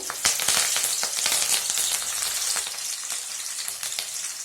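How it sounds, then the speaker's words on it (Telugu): Peanuts fry hard in hot oil with slit green chillies and curry leaves, a dense, bright, continuous sizzle close up, with crackling bursts and no voices. "ఒక మూడు టేబుల్ స్పూన్ల దాకా పల్లీలు వేసుకున్న తర్వాత ఒక రెండు నిమిషాల పాటు బాగా ఫ్రై చేసుకున్నామండి"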